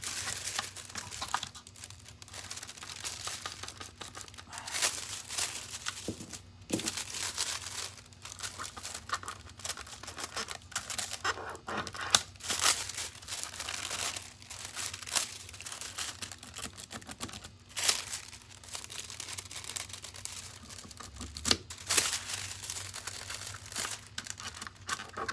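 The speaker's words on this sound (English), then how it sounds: "So I'm going to go back and foil those edges because clearly they're sticking to things" Foil is crinkled and pressed along the edges of a craft project in a long stretch of close, uneven crackling and rustling with brief taps, fairly quiet and with no talking.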